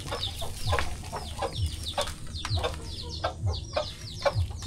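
Backyard chickens cluck repeatedly in short bursts with occasional rooster-like calls, set against busy bird chatter and a steady low rumble at a rural Philippine farm.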